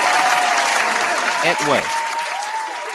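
A round of applause rolls on as a steady wash of clapping while a voice briefly talks over it partway through.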